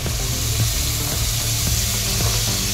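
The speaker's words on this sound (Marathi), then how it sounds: "सोडून याला चांगले आता परतून घेते तेलात" Potatoes and peas frying in hot oil with masala give a dense, steady sizzle, close and loud, with faint stirring clinks underneath.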